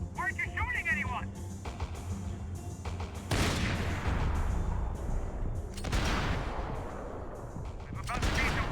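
Gunfire in Max Payne 3, with bursts of shots and heavy reports rolling under a busy combat mix while voices shout over the action.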